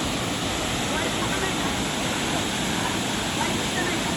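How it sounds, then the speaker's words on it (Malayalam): Clear water of Vibhuti waterfall in Karnataka pours steadily down over rocks, a loud, constant broadband rush close by with no break. "കുളിക്കാനായിട്ട് ഇവിടെ ഇങ്ങനെ താഴെ വെള്ളം ഒഴുകി പോകുന്നുണ്ട്"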